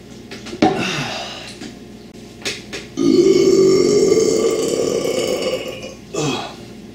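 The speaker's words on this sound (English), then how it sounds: "That was a piss poor burp." A long, loud, close burp after a swig of fifteen-year-old flat 7up soda (dnL), building at about three seconds and rumbling for roughly three seconds, with glassware clinks and a short grunt around it.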